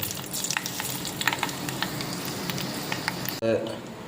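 Dried red chillies, curry leaves and fenugreek seeds crackle and sizzle in hot oil for a Kerala-style pulissery tempering, a busy spattering hiss with scattered pops, then a sharp louder burst near the end as the leaves hit the oil.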